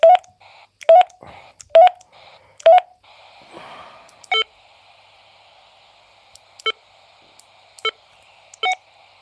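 A CB radio beeps out a fast run of short call-sign tones, followed by a hiss of static and then a few spaced single beeps.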